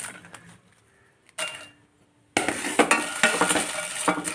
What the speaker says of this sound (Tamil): ஆயில் இல்லாமல் தான் நம்ம வறுக்க போகிறோம்.